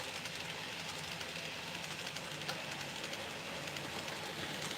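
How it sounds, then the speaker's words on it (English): A miniature railway train, set up at a Christmas layout, rolls past with a steady, continuous rumble and faint clatter that holds evenly at moderate distance throughout. "Once that train's gone by, so I can actually get on the track safely."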